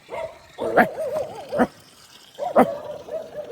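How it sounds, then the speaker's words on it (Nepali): A dog makes a few short yips and whining barks nearby, spaced irregularly with quiet gaps between them. "कुकुर पनि भुक्यो"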